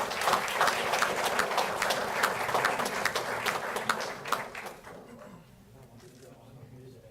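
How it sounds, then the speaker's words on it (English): Sustained applause from an audience at a township council meeting, dense clapping that holds steady for several seconds before tapering off toward the end. "Clap for him."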